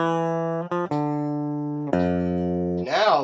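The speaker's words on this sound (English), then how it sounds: "Here's the way the guitar sounded the direct signal." A Telecaster electric guitar is recorded as a dry direct signal, playing a few clean sustained notes with brief gaps between them and ending on a wavering, bent note.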